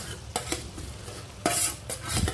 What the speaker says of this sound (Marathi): आता यामध्ये पनीर घालून घ्यायचं आहे। पूर्ण पनीर मिक्स करून घ्यायचं आहे।